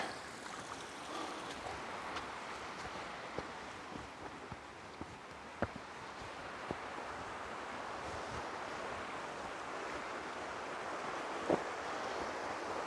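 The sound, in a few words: water running down rocks in a park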